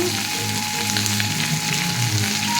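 Onions sizzle and fry in a hot pan, a loud continuous crackling hiss close up, steady throughout with no talking.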